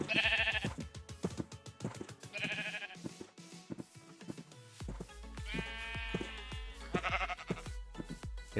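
Several Minecraft sheep bleat repeatedly, short, close baa calls overlapping and following one another, with some in longer wavering bursts and no talking.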